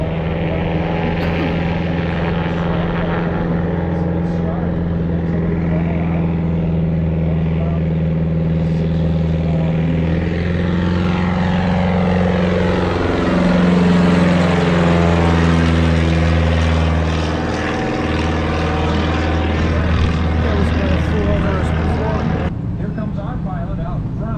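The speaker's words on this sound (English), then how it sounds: "There's a 150 horse Lycoming engine under the hood there" A 150-horsepower Lycoming aircraft engine runs at a steady, droning pitch, its hum continuing throughout with a slight swell in the middle, while someone talks over it.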